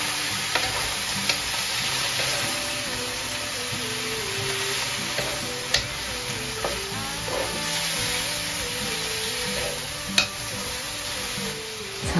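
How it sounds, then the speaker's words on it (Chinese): Vegetables stir-fried in a pan with about a third of a cup of water added sizzle steadily and close, with occasional scrapes and clacks of a utensil stirring throughout. "炒了两三分钟后"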